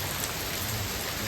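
Heavy rain falling steadily at an outdoor dal baati cooking spot, a dense, loud, unbroken hiss of drops with no pauses.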